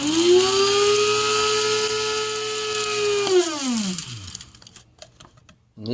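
An electric coffee grinder grinds raw stevia, giving a steady high whine for about three seconds that then drops in pitch and winds down, followed by faint rattling.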